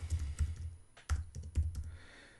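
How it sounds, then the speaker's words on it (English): Keys clatter on a computer keyboard as an address is typed into real estate software, a quick irregular run of close clicks with short gaps between bursts. "So we're going to type it in"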